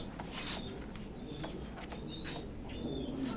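A female racing pigeon coos softly in a loft, with a few faint chirps and low murmurs repeating over a quiet background.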